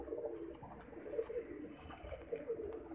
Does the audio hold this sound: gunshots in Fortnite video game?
no